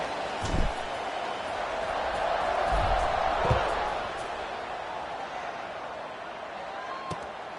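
Video game stadium crowd noise at kickoff in College Football 26, a steady broad roar swelling in the middle and easing off, with a few sharp thuds and under commentary talk.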